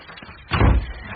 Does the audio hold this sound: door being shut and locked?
yes